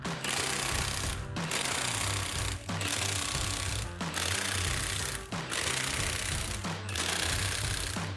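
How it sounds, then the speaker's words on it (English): A pneumatic impact gun with a 13/16 inch socket loosens wheel lug nuts on a 2021-2025 Ford F-150, hammering loudly and steadily in several long bursts, each broken by a brief pause, up close with no talking. "you will want a 13/16 inch socket on a impact gun. You'll just go and release all of these lug nuts"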